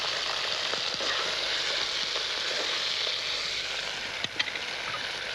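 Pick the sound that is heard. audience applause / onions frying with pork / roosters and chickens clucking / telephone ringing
onions frying with pork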